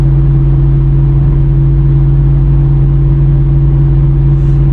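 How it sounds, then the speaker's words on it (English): A Pontiac G8 GT with its old exhaust setup cruises at 75 mph, giving a loud, steady exhaust drone with a low, even hum that holds constant throughout and no change in pitch. "around 75 here is where the exhaust starts to overwhelm any wind noise or tire noise or traffic noise"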